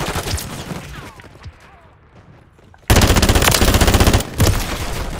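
Machine gun fire in a shooter video game, first a quieter stretch with scattered shots and ambience, then sudden loud rapid automatic bursts, rattling in fast rhythm with a brief pause before resuming.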